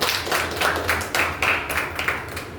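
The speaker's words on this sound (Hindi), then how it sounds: "ये मैडम का ताली होनी चाहिए" Applause at a business meeting for a woman, with close, fairly loud clapping from a small group in a room, lasting a couple of seconds.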